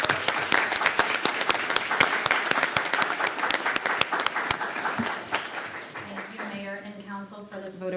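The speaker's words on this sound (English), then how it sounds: "So round of applause." Applause fills a city council meeting room, steady clapping from the gathered audience that fades away after several seconds as a person begins speaking.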